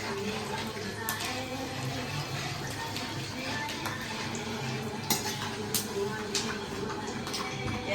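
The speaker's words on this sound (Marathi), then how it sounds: "आता आपण हे शेंगदाणे आम्ही तळून घेऊया" Peanuts fry in hot oil for poha chivda, giving a steady soft sizzle under repeated spoon-and-pan stirring clinks and scrapes, with faint kitchen background throughout.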